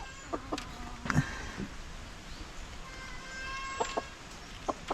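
Chickens cluck intermittently at a moderate distance while a pure white rooster calls, with short scattered bird sounds over a quiet farmyard background.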